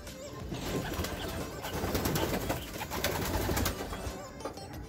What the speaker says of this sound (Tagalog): Ayan mga kalapatids, ang dami.